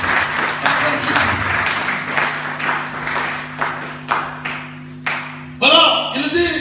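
A church congregation claps in rhythmic unison to acclaim Jesus, steady repeated handclaps under singing and a voice.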